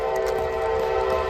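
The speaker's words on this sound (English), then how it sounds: "Looks like there's going to be a train coming through momentarily here." A freight train sounds a sustained, steady horn blast close by, loud and unbroken over a rumbling rail background, with no talk.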